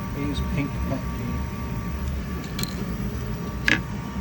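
Creality K1 Max 3D printer running a PETG print, a steady low mechanical whir and hum with faint ticks and a sharp click near the end, under someone's quiet talking.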